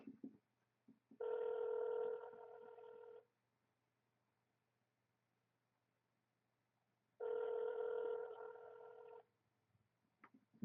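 Telephone ringback tone on an outgoing call: two long, steady electronic rings separated by several seconds of near silence, clear and close as if heard through the handset.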